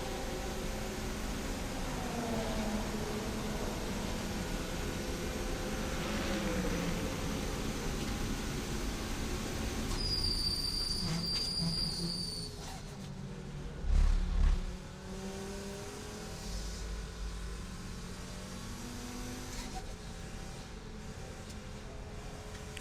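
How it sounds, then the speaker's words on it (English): Onboard a KTM X-Bow GTX race car with a five-cylinder engine during a 24-hour race in Barcelona: a steady droning engine and road noise with wind rush, a brief thump midway, and no talk. "see if you can catch a little bit of that 5-pot engine."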